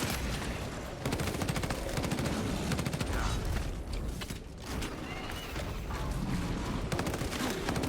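Rapid weapon volleys in a Warhammer 40,000 Raven Guard space combat video game: dense, continuous bursts of automatic fire with booming impacts and mechanical clatter, loud and unbroken throughout.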